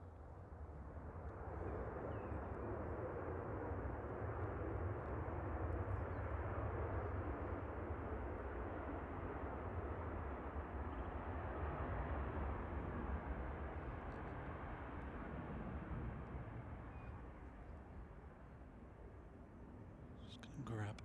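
A Boeing 737-800 on flight 3241 from Malaga landing at Manchester Airport, a steady broad engine roar that swells and holds for about twenty seconds before easing slightly, heard from a distance with no voices.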